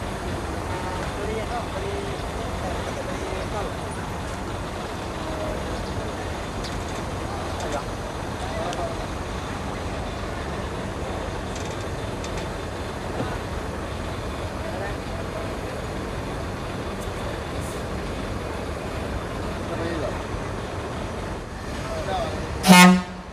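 A Transfer Express Jaya Bintang coach bus idles and rumbles at a terminal while people talk over it, then gives a short loud horn blast right at the end as it departs.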